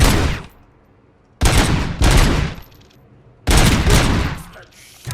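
Gunfire in RoboCop: Rogue City comes in three loud, close bursts of rapid shots separated by short pauses, each burst sharp and dense before cutting off.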